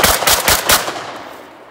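A Remington 11-48 16 gauge semi-automatic shotgun fired at an outdoor range: four quick, loud blasts in rapid succession, each sharp and close, followed by a fading echo and no voices.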